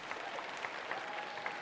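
An audience claps steadily at the Milton Union High School magic show, a moderate, somewhat distant patter of applause filling the short stretch without talk over it.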